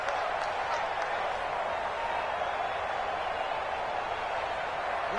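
Home stadium crowd in a football video game, a loud, steady roar of massed fans rising against the visiting offensive line, filling the whole clip without a break.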